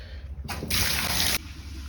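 Water from a kitchen tap gushes through an unblocked waste pipe in a loud, steady rush lasting under a second, framed by quieter trickling and gurgling before and after.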